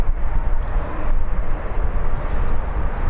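A Boeing Dreamliner at Birmingham airport gives off a loud, steady low jet roar that swells and eases slightly, continuous throughout with no talk.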